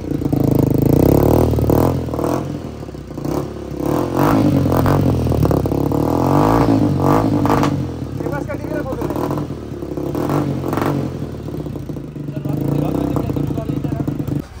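A modified Honda Impulse supermoto motorcycle fitted with a dB killer revs repeatedly in loud surges and drops, close by, with someone talking between and over the bursts.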